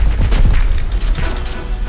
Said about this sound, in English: And a good explosion.